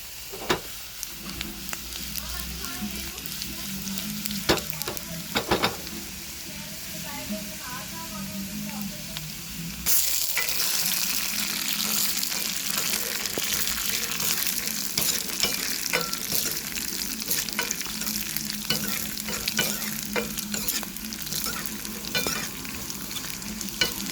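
Sliced onion browning with a single dried red chilli in hot oil gives a continuous close sizzle, broken by stirring clinks and scrapes, and the frying grows louder and brighter partway through.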